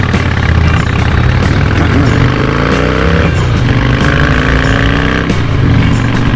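A motorcycle is ridden along the road toward the 2020 Gibtown Bike Fest from Ybor City, its engine droning loud and steady with rising and falling revs over constant road and wind roar.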